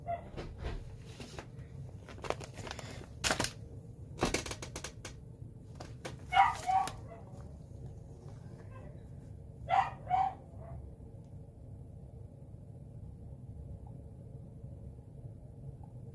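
A dog barks indoors in a few short, faint bursts spaced apart, with soft whimpers between them over a quiet background hum.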